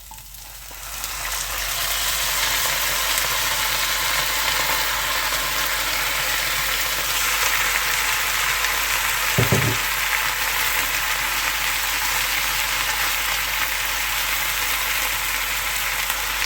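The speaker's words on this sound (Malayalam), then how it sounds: "നമുക്കിതിലേക്ക് പോർക്ക് ആഡ് ചെയ്ത് കൊടുക്കാം." Pork pieces sizzle steadily in a hot pan with a constant, close frying hiss. A brief stir or scrape lands near the middle, and no one speaks.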